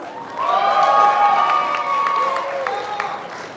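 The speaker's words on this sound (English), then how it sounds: "Can we give a big round of applause for Councillor Ethan Shan?" A crowd at a Tamil Heritage Month event cheers and whoops loudly over scattered clapping, the voices rising and falling together for a few seconds.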